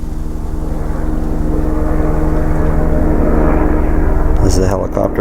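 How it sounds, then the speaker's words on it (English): Helicopter passing overhead at an outdoor gold recovery site with a solar-powered pump, a steady loud rotor and engine drone throughout that swells slightly before fading near the end. "As the helicopter flies over."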